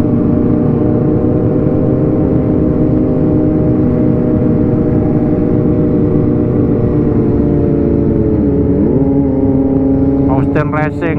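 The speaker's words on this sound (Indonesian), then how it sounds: "Austin Racing, knalpot Austin Racing cuy." A motorcycle fitted with an Austin Racing exhaust idles and revs loudly and steadily at close range, the engine drone holding throughout before a short rise in pitch near the end.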